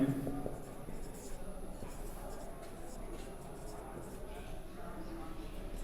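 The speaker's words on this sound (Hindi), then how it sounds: "इसी को लिखना है सिंगल स्ट्रोक में।" Pen or marker writing single-stroke hand lettering for a technical drawing lesson, a steady low scratching and shuffling of strokes on paper, close and continuous for about six seconds with soft background noise.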